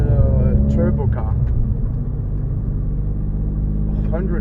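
A Ford Fiesta ST-Line with a 1.0-litre three-cylinder turbo engine rated at 140 horsepower gives a steady, close low-pitched drone from inside the car while someone talks over it.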